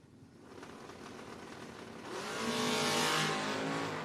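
Chevrolet Camaro and Nova drag race cars launching at a No-Box 660 Shootout drag strip, engines roaring louder and rising in pitch as they accelerate away, a dense loud blast with no talking.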